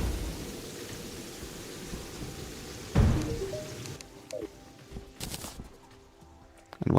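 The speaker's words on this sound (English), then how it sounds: "Why does it keep raining?" Steady soft rain hiss in the video game Terraria, a quiet wash of falling drops with a sudden low rumbling burst partway through and scattered brief game tones over the top.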